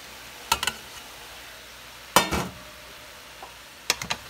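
Bitter melon, long string beans and eggplant being stirred for Filipino pinakbet: a utensil scrapes and clinks against the pan in three short, separate bursts with quiet pauses between them, close by.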